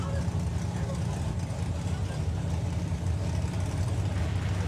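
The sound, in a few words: drag racing car engine being pedalled on the track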